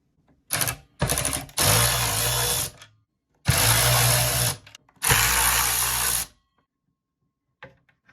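A power driver with a Torx T10 bit whirs in five separate bursts while backing screws out of a 1999–2004 Ford F-350 overhead display. The runs are short and long, close up, with quiet gaps between them.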